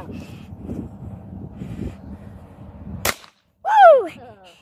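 A single sharp gunshot cracks at an outdoor shooting range during the first shoot of the season in February, fired by a left-handed shooter at a downrange target, followed by a voice whooping loudly.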